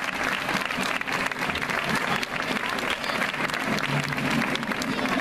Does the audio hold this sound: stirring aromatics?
no